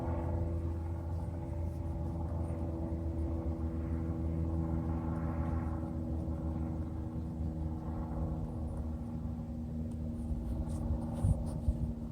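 A non-spray propeller plane drones steadily overhead, a low, even hum that holds for the whole stretch at moderate distance, with no voices.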